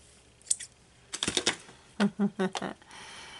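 A few quick, crisp snips cut crochet thread during bead crochet work, close and quiet. Soft handling clicks and rustles of the thread come first.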